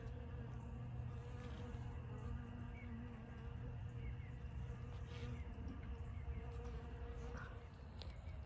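Honey bees buzz around a hive colony of honeycomb cut from a tree, a faint, steady swarm hum with occasional louder individual bees passing near.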